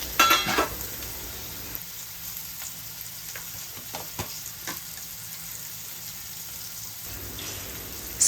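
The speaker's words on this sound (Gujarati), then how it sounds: "અને જે આપણે મીડિયમ જાડા ટુકડામાં સમારેલું છે પરવળ તે નાખી દઈશું" Chopped pointed gourd (parwal) in medium-thick pieces tipped into hot oil tempering with cumin, asafoetida and turmeric, giving a steady close sizzle and frying hiss with a few stirring clicks and scrapes.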